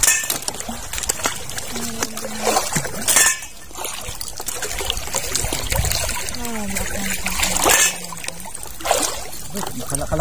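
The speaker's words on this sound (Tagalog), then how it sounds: "Kalakas ang agos na matatangay talaga." Strong river current rushing past a boat carrying oysters, a steady broad wash with trickling and clinking over it, while people talk nearby throughout.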